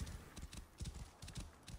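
Horse hooves clip-clopping in Assassin's Creed Origins, a quick, uneven run of soft low thuds from a horse setting off, quiet and continuous.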